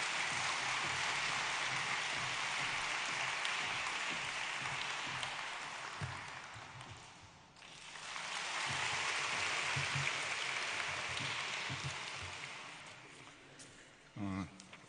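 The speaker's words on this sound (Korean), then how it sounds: "큰 박수로 하나님께 영광의 박수를 보내드리겠습니다" Large congregation applauding in a church service honouring an elder-elect, a sustained wash of clapping that dips midway and swells again before fading, with some talk underneath.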